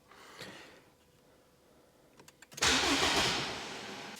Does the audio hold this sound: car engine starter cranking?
yes